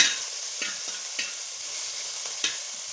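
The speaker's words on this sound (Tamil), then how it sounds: "இப்போ சேர்த்து கொடுத்துக்கோங்க சேர்த்து கொடுத்துட்டு வெங்காயத்தை ஒரு அஞ்சு நிமிஷத்துக்கு நல்லா கிண்டி கொடுத்துக்கோங்க" Chopped onions frying in a pan for chicken mandi biryani, a continuous bright sizzle broken by several scraping stirs of a spatula, heard close and alone.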